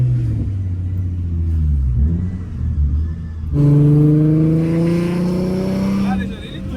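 A car fitted with a Vortech supercharger accelerates hard and loud, its engine note rising through the gears with a fresh surge partway through, heard from close by with people talking over it.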